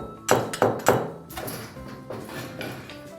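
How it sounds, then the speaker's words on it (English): Three sharp hammer blows strike in quick succession as plastic wall plugs are driven flush into drilled holes for a copper pipe clothes rail bracket, followed by softer taps and rattles. "taking the hammer, just hammering them in flush."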